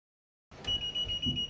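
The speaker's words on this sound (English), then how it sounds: "It will make a bleeping noise if the antenna wire is not connected correctly" A faint, thin high-pitched electronic bleep from a transmitter whose antenna wire is not connected correctly, sounding steadily over low background hiss.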